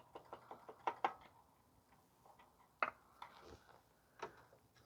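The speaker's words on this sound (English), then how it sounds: "So I just use a screwdriver to poke at it just to see." Screwdriver tapping on an engine sensor of a 2005 Toyota Corolla 1.8 with an intermittent misfire, giving a series of light, close knocks in uneven bursts, fairly faint.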